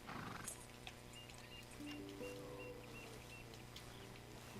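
A horse in Red Dead Redemption II snorts and gives a short whinny amid soft hoof movement and low ambient outdoor game noise, fairly quiet and close with no talk.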